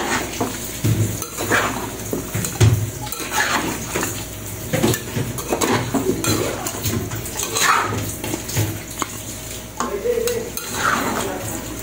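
Duck stew with coconut milk is stirred in a pot, a spoon scraping and clinking against the metal in an uneven rhythm with soft liquid sloshing, close and fairly loud, with no talk.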